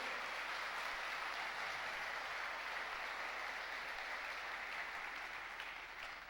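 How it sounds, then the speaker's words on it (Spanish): A church congregation breaks into strong, sustained applause, a thick even wash of clapping at constant loudness that tapers slightly at the very end. "Denle un fuerte aplauso al Señor si usted lo cree."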